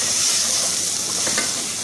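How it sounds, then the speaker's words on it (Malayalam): Crushed cinnamon, cloves and cardamom are stirred into a pan of restaurant-style egg curry, a steady close sizzle and hiss with a few soft scraping stirs. "ചതച്ച കറുവപ്പട്ടയും 2 ഗ്രാമ്പും 1 ഏലക്കയും കൂടി ചതച്ചത് ഇട്ട് വീണ്ടും ഇളക്കി"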